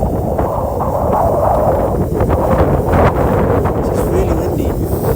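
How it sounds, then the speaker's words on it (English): Strong gusts batter a DJI Mini 3 Pro drone in flight, producing loud, continuous buffeting wind roar that swells and rumbles throughout. "It's really windy."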